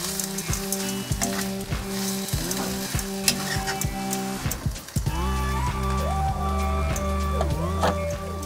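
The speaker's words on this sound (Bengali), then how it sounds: "চুলাটা কমিয়ে মেয়োনিজ দিয়ে দিচ্ছি। মেয়োনিজ দিচ্ছি 4 চামচ পরিমাণ। দিয়ে নাড়াচাড়া করে মিশিয়ে নিচ্ছি।" Chicken momo filling mixed with four spoonfuls of mayonnaise sizzles in a pan over lowered heat, a dense crackling fry with repeated scraping stirs and clatters, loud and close with no talking.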